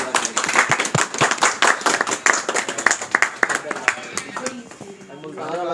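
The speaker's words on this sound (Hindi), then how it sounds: "तालियां होनी चाहिए भाई, बहुत जबरदस्त भाई, तालियां" A group claps during a pizza eating challenge, giving a burst of rapid, dense applause that is loud and close, then tapers away while someone speaks over it.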